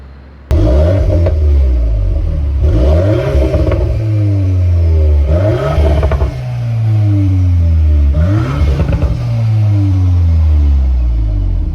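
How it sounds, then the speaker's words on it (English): A 2022 Volkswagen Golf R Mk8 with exhaust valves open in sport mode, revved hard four times in a row close by, each rev rising in pitch and falling back to a deep burbling idle. "It opens those exhaust valves and gives you a little bit more tone."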